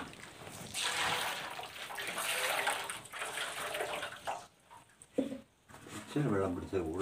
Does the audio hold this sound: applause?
no